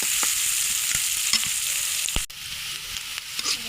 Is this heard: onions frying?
yes